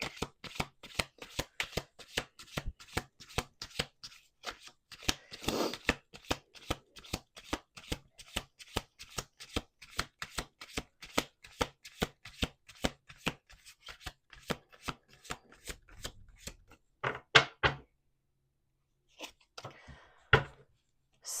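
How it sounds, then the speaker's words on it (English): Playing cards shuffled over and over at a tarot-style reading, a dense run of crisp riffling clicks and snaps in steady bursts, close and alone, ending with a few louder slaps of the deck. "Last shuffle."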